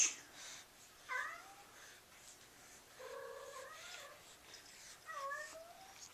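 A cat meowing indoors, several faint, drawn-out meows spread across a few seconds, with quiet breathy sounds between them.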